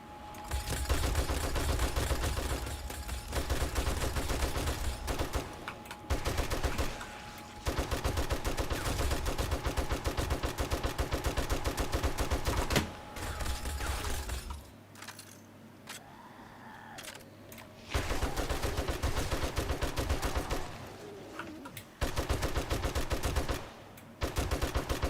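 Automatic turret in 7 Days to Die firing long rapid bursts of loud gunfire, broken by short pauses and a quieter stretch in the middle before firing resumes, with no talk.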